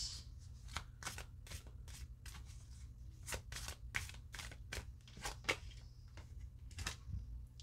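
Oracle cards shuffled by hand for a reading give quick, crisp riffling bursts in an uneven rhythm. Each flurry is close and papery against a low background hum, and no one speaks.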